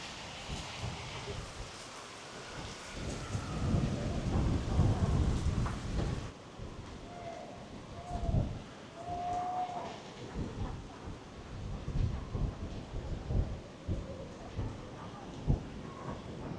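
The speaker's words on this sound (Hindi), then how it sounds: "खतरनाक बारिश आ रही है भाई, खतरनाक वाली।" Heavy tropical downpour with rolling thunder on the Andaman Islands, heard from beside a tree: loud, dense rain roar with deep rumbles swelling and fading, easing later as someone talks over it.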